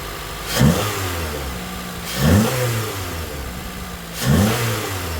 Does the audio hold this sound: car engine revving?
yes